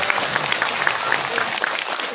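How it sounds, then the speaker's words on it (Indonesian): An audience claps steadily in applause for the village head at a religious gathering, a dense, even patter that holds through the whole stretch at moderate loudness. "Tepuk tangan buat Pak Lurah."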